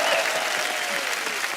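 A television studio audience claps in a dense, steady burst of applause, loud and close, with a faint voice underneath.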